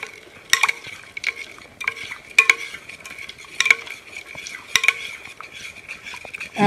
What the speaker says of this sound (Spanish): y empezamos a revolver